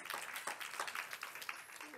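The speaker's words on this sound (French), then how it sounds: "On peut l'applaudir." Audience at a French work conference applauding a speaker, a brief patter of claps, fairly soft and somewhat distant, with a voice faintly present underneath.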